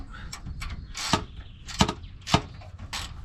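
A ratchet tightens an end link on an FJ80 Land Cruiser in short bursts of clicking, with a few sharp knocks between them, close and fairly loud.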